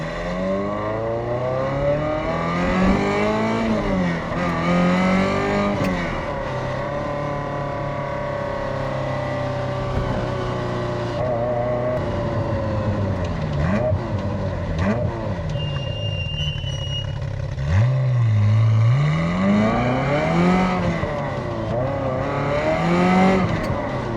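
A Ferrari F355 Challenge car drives through a construction zone over rough, uneven road, its loud engine rising and falling through repeated revs and gear changes, with the sound close and continuous.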